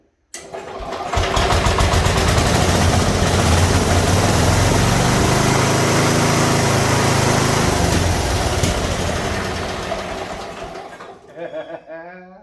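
A Simplicity lawn tractor engine cranks with a dry carburetor, a loud, close, sustained churning roar that holds for about ten seconds, then fades and sputters out.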